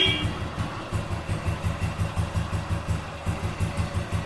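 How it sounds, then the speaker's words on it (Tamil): A restored 2003 Royal Enfield Bullet motorcycle engine idles with a steady, even thumping beat, close and moderately loud, running alone throughout. "ஸோ இன்ஜினோட சவுண்ட் கேட்டிருப்பீங்க."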